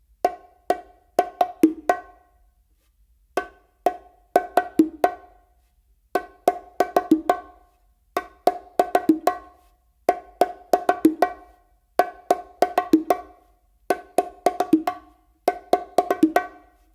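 Bongos played in a Brazilia rhythm, each phrase opening on the macho and hembra drums: crisp, close slaps and tones in repeating bursts of quick strokes separated by short gaps, played alone with no talk.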